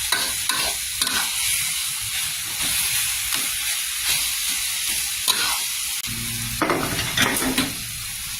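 Red curry paste stir-fried with jackfruit in a pan gives a loud, continuous close sizzle and hiss, with repeated scraping strokes of a spatula throughout.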